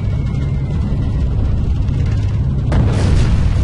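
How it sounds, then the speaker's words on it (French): In Call of Duty 2, a dropped bomb explodes with a sudden loud blast that cuts through a steady, heavy aircraft drone near the end. "Bombe larguée!"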